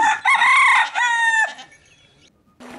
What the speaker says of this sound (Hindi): शायद मुर्गी की ध्वनि